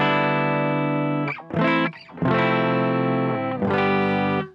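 Electric guitar with the gain full and a compressor on, played alone as a few long, even, sustained chords with brief gaps between them, fairly loud and thick.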